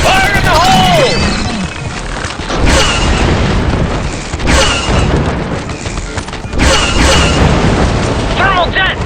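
Grenade explosion in the video game Star Wars: Republic Commando, heavy booming blasts landing several times across a busy battle soundscape of gunfire and debris, with soldiers' voices and radio chatter mixed in.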